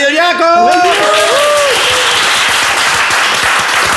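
Studio audience applause for guests at the close of a talk show, loud and sustained broadband clapping that starts with a voice speaking over it and then continues alone, evenly dense throughout.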